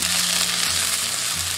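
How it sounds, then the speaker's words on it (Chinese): Chopped scallion, ginger and garlic stir-fried in hot cooking oil in a wok, a loud, continuous hissing sizzle close up, with a low hum underneath. "下入葱姜蒜炒香"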